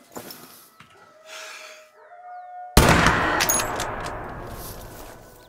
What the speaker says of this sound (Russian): Так, выстрел сделан